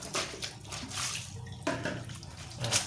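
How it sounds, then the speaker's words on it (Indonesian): Water is splashed and poured across a dirty house floor being washed with soap, giving irregular sloshing and gushing bursts that rise and fall with a louder splash near the middle. "setelah kita siram gini"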